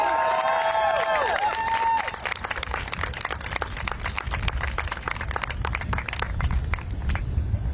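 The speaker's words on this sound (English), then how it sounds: "Another round of applause for that speaker, everybody." A crowd at a student-led walkout protest at Howard University in Washington, DC breaks into sustained clapping and cheering for a speaker. A brief tonal squeal is heard first, then the dense applause carries on steadily to the end.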